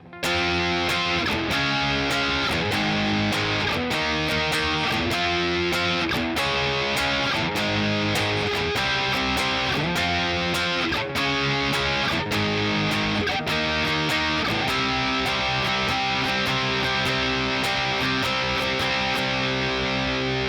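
Distorted electric guitar plays the power-chord verse riff of a song with steady down-strums, a loud, continuous band-like drive running the whole stretch without pause.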